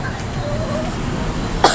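A person coughing, with a sharp, loud cough bursting out near the end after a stretch of noisy background with voices.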